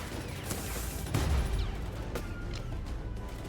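Gunner enemies firing guns in Palworld, heard as fairly faint bursts of rapid gunfire cracks and thuds spread across the stretch, with one heavier blast near the start.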